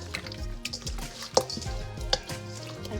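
Cut pork baby back ribs mixed by hand with vinegar in a basin, giving close wet squelching, sloshing and a few sharp knocks against the basin over a brief stretch, with no voices.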